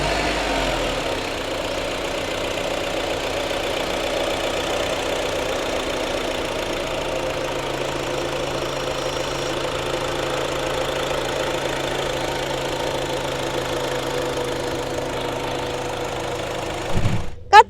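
A 2013 Honda CR-V 2.4 engine idles steadily after starting, with a low, even rumble and light mechanical ticking, ending with a brief clunk.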